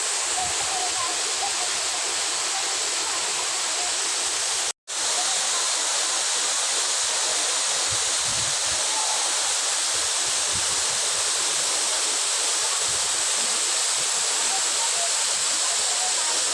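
Balagbag Falls waterfall roaring steadily as a dense, continuous broadband rush, close and constant throughout with one brief dropout.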